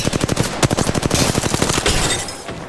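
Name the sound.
gunshots in video game Apex Legends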